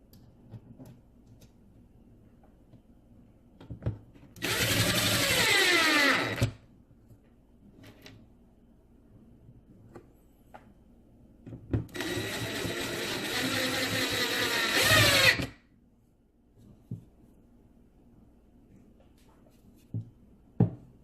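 An H6 screw driven in to secure a support brace, heard as two loud, sustained whirring bursts of two and three seconds with a rising and falling whine, set apart by quiet gaps with a few faint clicks.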